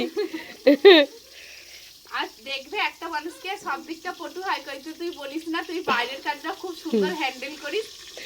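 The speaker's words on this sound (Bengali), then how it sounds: "মন দিয়ে বেগুন ভাজছে ও" Eggplant slices fry in hot oil in a wok with a light, continuous sizzle, mostly beneath a voice talking close by.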